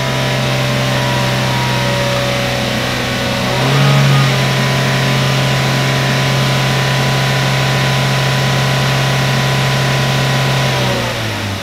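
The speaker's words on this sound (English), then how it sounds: "This is just bringing the RPMs up with no load." Chevrolet Cruze engine revved in place with no load, a steady loud mechanical drone that climbs in pitch briefly near the start and then holds a sustained high-RPM hum with no voices.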